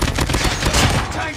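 A sentry gun in a video game fires in a rapid, loud burst of gunfire at enemies, dense and continuous for over a second.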